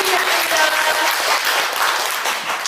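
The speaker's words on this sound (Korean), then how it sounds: "자리에서 일어나실 때 여러분 큰 박수" Sustained applause from an audience at a Korean business agreement signing ceremony as a guest stands to be introduced, dense and steady clapping filling the room throughout.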